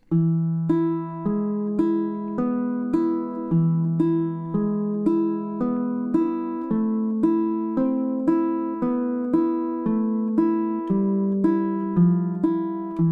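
A baritone ukulele is fingerpicked with thumb and middle finger in a steady alternating "Malagueña" pattern, low thumb notes trading with higher plucked notes, close and clear with no talking.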